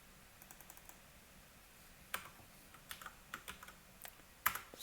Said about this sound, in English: I'm typing blind here